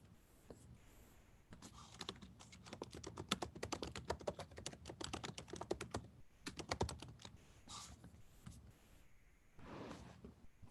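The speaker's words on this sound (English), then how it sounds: "That's what happened to your keyboard. It's sticky." Someone types on a sticky computer keyboard, a rapid run of close, sharp key clacks in bursts with short pauses between them, followed by a few softer sliding or rustling sounds toward the end, with no talking.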